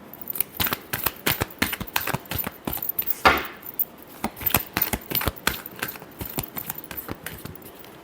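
Tarot cards being shuffled by hand, quick crisp riffling flicks in an irregular rapid rhythm, close and clear, with one longer ruffle in the middle.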